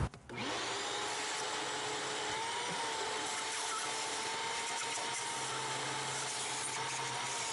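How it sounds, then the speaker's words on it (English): Shop vac suctioning debris out of the cylinders, coolant jackets and bolt holes of a Chevy 5.3 Vortec LS engine, a steady close whine and roar that runs unbroken with no talk. "Take your shop vac and get all the stuff that got into the cylinders, coolant jackets, and bolt holes"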